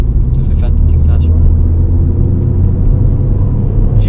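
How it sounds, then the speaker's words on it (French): A Mercedes CLA 45 AMG accelerates with a deep, steady engine rumble heard from inside the car, with people talking over it. "Je vais faire une petite accélération."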